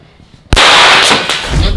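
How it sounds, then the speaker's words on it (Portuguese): A Bola Brasil snap firecracker ball thrown onto the floor goes off with one sudden, very loud crack that leaves a harsh, crackling burst lingering for about a second, following faint quiet background sound. "quando a gente joga ela no chão, ela dá um barulho extremamente alto"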